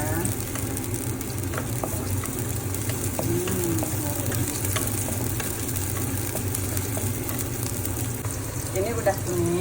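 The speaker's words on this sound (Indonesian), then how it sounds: "Terus kalau udah hangat, udah panas, masukin bawang bombay." Sliced onion sizzles in hot oil in a pan for Japanese-style yakiniku, a steady dense frying hiss with faint clinks and a low background hum throughout.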